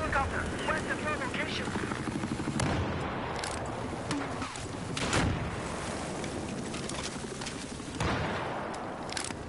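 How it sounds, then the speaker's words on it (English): A hostile helicopter's steady rotor thrum in Battlefield 4 on PS4 plays alongside gunfire and scattered chirps, with a voice talking over the noise. "It's a hostile helicopter."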